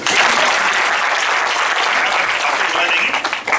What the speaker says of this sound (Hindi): कुछ तो भी अच्छा बोला, इसने ताली बजाओ यार।